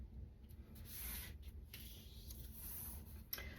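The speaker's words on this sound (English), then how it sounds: "rub that hard to make it stick" Tape being rubbed firmly onto a paper scrapbook border made with a tape runner and white scalloped paper, a steady soft scratchy friction in repeated strokes, close and quiet with no talking.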